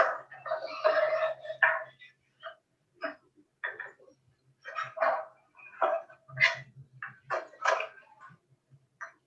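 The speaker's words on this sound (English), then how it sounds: "your dog Sparky wouldn't go off at the 10th time of the day" A dog barks in repeated short bursts, fairly close and loud, with brief gaps between the barks.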